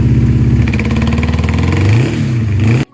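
The engine of a 1984 Honda CB700SC Nighthawk motorcycle, running poorly on choke, revs loud and close, with a rough rising and falling drone that cuts off abruptly at the end.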